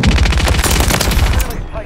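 Rapid automatic gunfire bursts from Call of Duty: Modern Warfare III multiplayer, loud and continuous with dense repeated shots, then cuts off abruptly.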